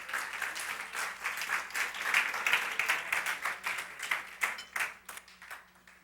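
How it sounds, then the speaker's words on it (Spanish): A church congregation applauding the King during a Spanish-language worship service, steady fairly distant clapping that fills the whole stretch with a continuous rippling texture, with no talk over it. "Dale un aplauso fuerte al Rey, aleluya."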